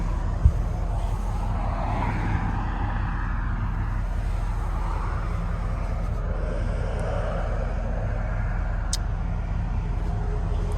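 A 1987 Chevrolet Silverado pickup with a 5.7 liter 350 V8 drives along, a steady low engine rumble with broad road and wind noise around it, moderately close and unbroken by talk.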